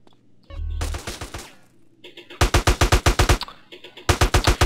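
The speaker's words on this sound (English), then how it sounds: "Start to shoot the enemies." Automatic gunfire from shooting enemies in GTA San Andreas rips out in loud, rapid bursts, each a fast rhythmic string of sharp cracks. Brief pauses and a low thump separate the volleys.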